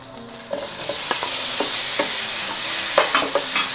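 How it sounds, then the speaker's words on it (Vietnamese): Pineapple and tomato stir-frying in a pan, a continuous bright sizzle with a series of spatula scrapes and taps as the pieces are tossed, close and moderately loud. "Sau khi mà xào thơm với lại cà chua nó chín và nó mềm rồi"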